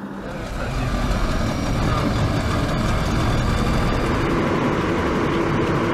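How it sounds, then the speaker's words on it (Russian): Military vehicles in a joint Russian, Turkish and Syrian exercise in Idlib pull away as a convoy, a loud, steady rumble of heavy truck engines building in the first second and holding throughout. "Все, колонна двинулась."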